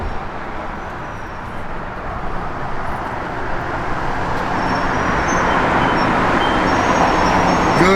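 A 1970 Plymouth Barracuda hot rod with Hooker headers and a 727 Torqueflite automatic runs with a loud, continuous, broad rumble that builds slightly over several seconds, with no talking.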